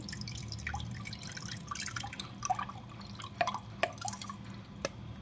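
Homemade herbal kashaya drink is strained slowly after blending in a mixer, giving soft close drips and trickles with a few sharper droplet plinks, quiet and without talk.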